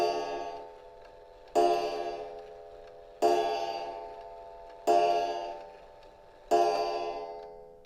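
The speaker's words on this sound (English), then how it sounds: "see, it chimed 7 times" A clock chimes in slow, evenly spaced strikes, five audible here, each a bright ringing tone that decays gradually before the next, heard close and without talk.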